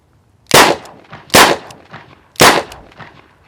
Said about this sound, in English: accurately put 3 rounds of Underwood wad cutter on target